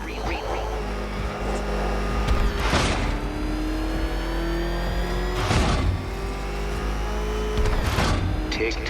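Batmobile engine in the video game Batman: Arkham Knight, roaring loudly over a steady rumble, with three sharp whooshing surges spaced a few seconds apart and rising whine tones in between.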